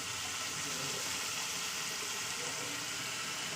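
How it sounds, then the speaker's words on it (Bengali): Chicken kosha with turmeric and salt sizzles steadily in a pan, a constant close frying hiss with no breaks. "এবার আমি কষিয়ে নেবো দু থেকে তিন মিনিট"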